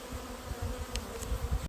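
Package honey bees buzz around a hive, a close, dense drone with a few brief higher-pitched passes as individual bees fly near.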